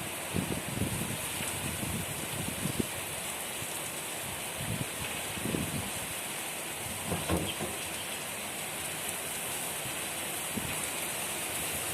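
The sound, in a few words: heavy rain downpour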